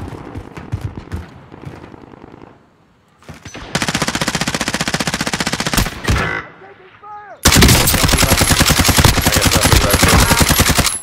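Rapid gunfire in a multiplayer shooter video game: bursts of loud automatic shots, a brief lull, then sustained heavy volleys of close, dense fire filling the second half, with no clear speech over them.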